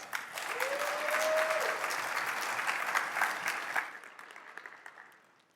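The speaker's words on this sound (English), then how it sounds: "Go ahead and give her a round of applause" Audience applause for a speaker at a PyCon conference talk, a dense, even roar of clapping from a large crowd that holds steady and then tapers off toward the end.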